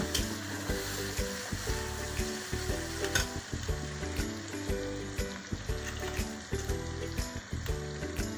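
Chopped onions fry in mustard oil in a village-style kitchen, making a loud, continuous crackling sizzle dotted with rhythmic scraping and stirring knocks from a utensil against the pot, without any talking.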